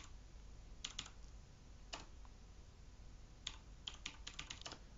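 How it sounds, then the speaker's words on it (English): A git command is typed on a computer keyboard: scattered close key clicks, a few isolated taps early, then a quicker cluster of keystrokes toward the end. "We're going to type in git pull"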